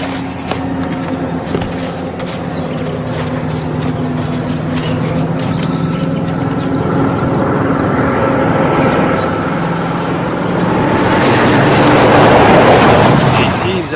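A loud, steady engine rumbles continuously, swelling slightly toward the end, with faint voices underneath.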